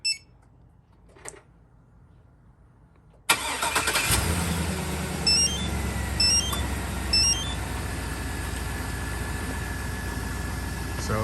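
A Chevrolet Silverado SS truck engine cranks and fires after a quiet pause, started remotely, then settles into a steady loud idle with a few faint electronic chirps over the rumble.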